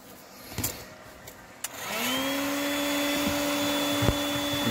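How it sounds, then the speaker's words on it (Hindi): A heat gun warming interior trim on a 2020 Tata Nexon starts with a few clicks, then whooshes up into a steady, fairly loud blowing hum with a whine that holds to the end. "देखिए इसको हल्का हल्का हीट कर रहे हैं"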